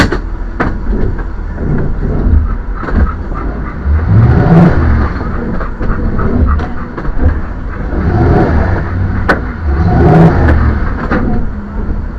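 An RV engine revs in surges while a tire spins in mud at a muddy campsite, the loud droning rising and falling in repeated bursts with no talk over it.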